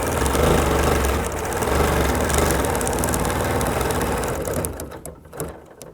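A sewing machine runs straight-line stitches across a quilt guided by a lined ruler, giving a loud, close, steady mechanical whir that continues unbroken before easing and stuttering toward the end.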